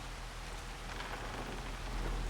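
Steady rain pours in a farming video game, a dense, even hiss of drops on surfaces with a low rumbling bed underneath, continuous and fairly loud with no talk.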